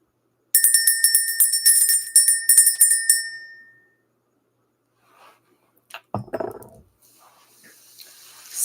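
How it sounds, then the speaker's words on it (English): A bell rings out in a series of bright, quick strikes for about three seconds, then fades; a few seconds later some faint handling noises and knocks follow. "Let's go ahead and ring this bell."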